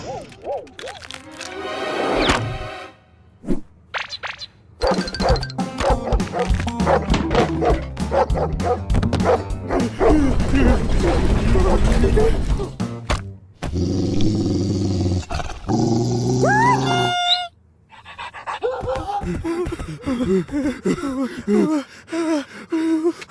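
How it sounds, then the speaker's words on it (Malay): A dog in an animated country-mouse and town-mouse tale barks and growls in loud repeated bursts, with gasps and short pauses between volleys over a long stretch. "Anjing dah pergi."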